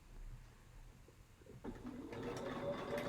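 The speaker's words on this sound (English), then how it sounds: "So I'm just going to sew up to where I know the dot is." A sewing machine stitching a basket quilt block starts up partway through and runs in a steady close whir after a quiet opening.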